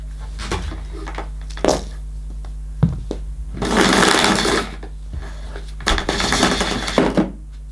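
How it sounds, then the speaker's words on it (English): Flex cord rewinding on a Moulinex Powerstar cylinder vacuum cleaner, short bursts of rapid whirring and rattling as the cord retracts, separated by clunks and knocks, with a steady low hum underneath. "nothing wrong with the flex rewind either"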